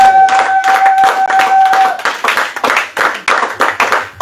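A church congregation claps in a steady, rhythmic beat, loud and close. Many hands strike together at an even pace, with a faint sustained tone in the background early on.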